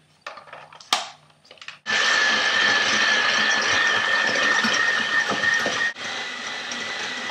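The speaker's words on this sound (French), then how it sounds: "avec un batteur électrique, vous allez monter" An electric hand mixer whips egg whites, starting after a few soft clicks and knocks with a loud, steady high whine and rattle that runs continuously, briefly cutting out near the end before continuing.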